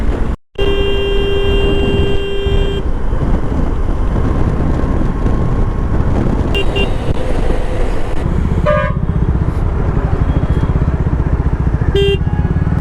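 Vehicle horns honk in road traffic during a motorcycle ride toward Kedarnath: a long horn blast opens, followed by several shorter toots at intervals over a continuous rumble of engines and traffic.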